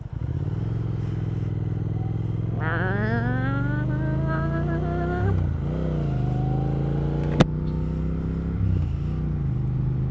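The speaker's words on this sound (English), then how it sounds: "that exhaust. I don't know if you guys can hear it, but it's popping a little bit" A Triumph Speed Twin motorcycle engine drones and revs up through the gears, with occasional crackles and one sharp pop from the exhaust, close by.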